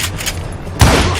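Gunfire in the Western shooter game Call of Juarez: Gunslinger, with a loud blast that booms up sharply near the end over a constant roar of background game noise.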